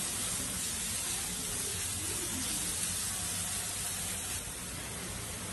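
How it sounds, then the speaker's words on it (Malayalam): Onions frying with ginger, green chilli and curry leaves in a pan, giving a steady, continuous sizzle and hiss with no voices. "നമ്മളെ ഇഞ്ചിയും പച്ചമുളകും കറിവേപ്പിലയും എല്ലാം കൂടി ഇതിൻ്റെ കൂടി ഒന്ന് മിക്സ് ചെയ്തിട്ട് സവാള ശരിക്കും മൂപ്പിച്ചെടുക്കണം"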